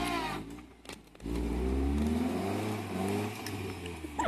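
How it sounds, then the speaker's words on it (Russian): Engine of a Chevrolet K5 Blazer revving hard while towing another vehicle off-road, a loud sustained roar that rises and holds after a brief dip, close by with no talk over it. "Даня, блейзер, тащи"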